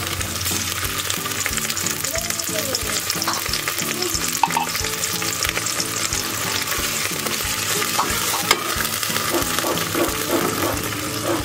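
Sardines sautéing with aromatics in a pan, a dense steady sizzle and frying hiss with stirring scrapes throughout, close and continuous with no talk.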